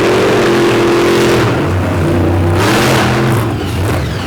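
A race truck engine revs hard and steady through a drag race finish-line lunge, loud and close, its pitch shifting as the throttle holds, with no talk over it.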